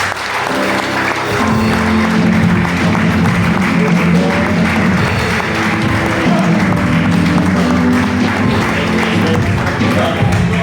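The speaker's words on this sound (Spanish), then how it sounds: "Den un aplauso a Dios." Church congregation applauding steadily and loudly throughout, a dense wash of clapping with voices underneath.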